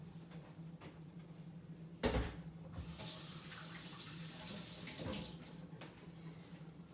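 Kitchen sink tap running while rinsing up after straining pumpkin for wine, a soft steady water flow with a clattering bump and some handling sounds close by, with no talking.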